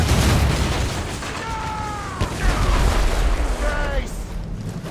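Ship cannons firing in Assassin's Creed Rogue during a naval battle: heavy booms and rumbling blasts, with a sharp crack mid-clip, under shouted crew voices and whistling tones.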